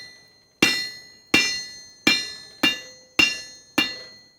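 Hammer blows on a hot steel tip being forged flat for a hook, six sharp ringing strikes spaced roughly evenly, each decaying quickly, close and loud with no talk.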